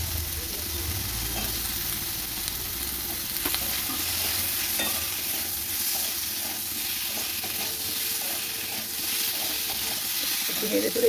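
Chopped onions sizzle steadily in a hot pan for chili soybean, with scraping and stirring strokes running throughout the loud, continuous frying.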